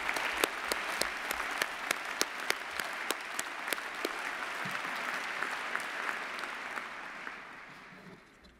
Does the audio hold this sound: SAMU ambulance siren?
no